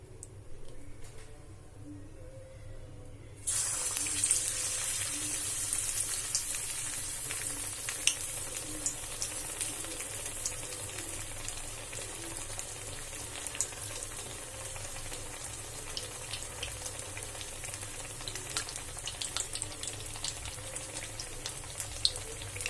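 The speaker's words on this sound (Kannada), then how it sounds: "ಎಣ್ಣೆ ಕಾದದ ಈಗೇನದ ಇದನ್ನ ಬ್ರೆಡ್ ಬೋಂಡ ಹಾಕೊಂಡು" Bread bondas drop into hot oil and fry with a sudden sizzle after a few quiet seconds, then a steady, close crackling hiss with small pops continues to the end.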